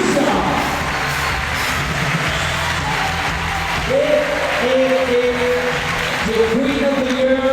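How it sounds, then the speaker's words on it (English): An audience at a lead climbing World Cup final in Valence applauds with steady, diffuse clapping, while a voice over the public address system cuts in partway through. "Applaudissements pour Diara Frankoutinho."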